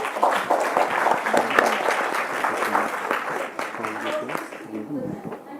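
An audience at a youth weather workshop applauds four speakers, dense sustained clapping from many people that tapers off near the end, with some voices mixed in.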